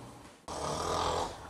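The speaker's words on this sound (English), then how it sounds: "Is your spouse snoring so loud you can't have a restful sleep?" A spouse snores loudly in a comedic advertisement, a single long rasping snore that starts abruptly after a quiet moment and holds strong before tapering.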